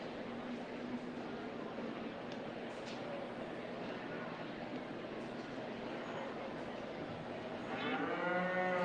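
Cattle moo at a 4-H beef and market steer show, a low drawn-out bellow from one animal rising at the end over a busy arena murmur of crowd talk.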